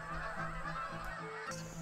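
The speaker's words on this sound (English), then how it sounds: "we have a flight of geese soaring overhead" Geese fly over a rural homestead, honking repeatedly in overlapping calls that carry clearly over faint background sound, with no talking.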